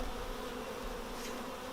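Honey bees hum steadily around capped hive frames during a honey harvest, a low, dense, continuous buzz close by and faint overall, with no talking.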